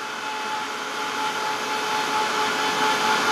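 A Ranger heat gun drying paint on a painted Santa beard gives off a steady, close whirring blower hum with a faint whine, continuous and slowly rising in level, with no talk.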